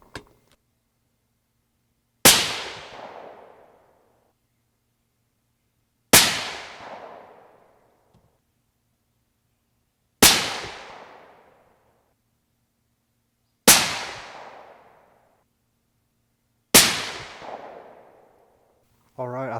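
Five sharp, loud reports from a suppressed 6.5 PRC rifle firing 142gr Sierra MatchKing loads over IMR 7977 powder, each crack decaying quickly, spaced roughly four seconds apart with near silence between.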